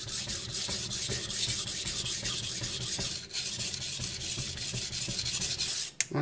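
A knife blade is worked over a coarse 240-grit Chinese whetstone, giving close, steady back-and-forth scraping strokes in a regular rhythm without any speech.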